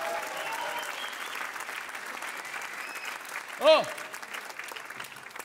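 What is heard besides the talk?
spontaneous audience applause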